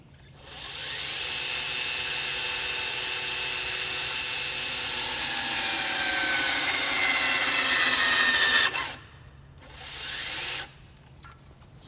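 A TORCUP power torque wrench tightens an Axial Flow wheel bolt with a loud, steady whirring grind that rises in pitch for about eight seconds, then cuts off, followed by a shorter second burst, close and alone.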